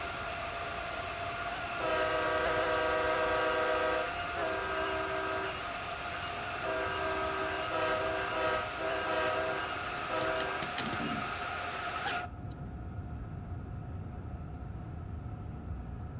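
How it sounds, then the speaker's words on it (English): An Amtrak Acela Express runs on the Northeast Corridor between New York and Trenton, its steady running roar carrying several long horn blasts that start and stop before the sound cuts away abruptly near the end. "Come on, start developing that thrust boosted locomotive."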